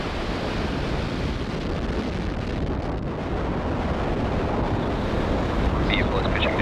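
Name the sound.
SpaceX Falcon Heavy rocket launch engines at lift-off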